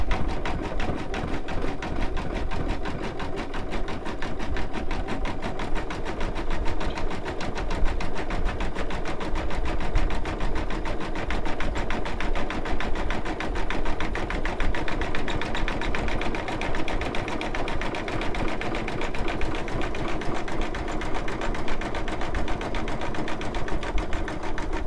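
Embroidery machine stitching a Kreative Kiwi sun design, a fast, even, continuous mechanical chatter with a low motor hum, steady and close throughout with no talking.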